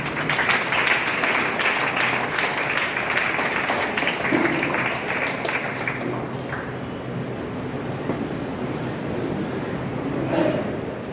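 Applause from an audience at a career workshop for science students, welcoming a professor to speak; broad steady clapping noise, fairly loud, fading somewhat after the midpoint, with no talk.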